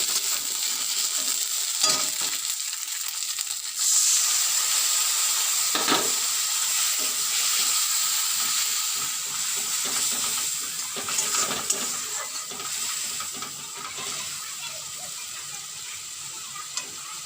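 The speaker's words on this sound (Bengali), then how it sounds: "আর দেখো এখানে মশলা কষা চলছে" Spice masala sizzles loudly and steadily in a pan while being stirred for an egg and potato curry. A continuous hiss is broken by occasional scraping stirs.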